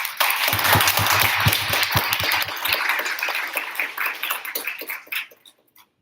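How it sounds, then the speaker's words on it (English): Audience applause at a town hall, a dense burst of clapping from a room full of people, loud and close at first, then thinning to a few scattered claps and fading out. "give yourselves a round of applause"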